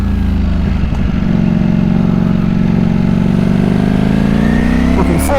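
Ducati Streetfighter V4S motorcycle engine drones loud and close at steady high revs, its pitch sliding gradually through a downshift into second gear under rushing wind noise, with a brief blip near the end.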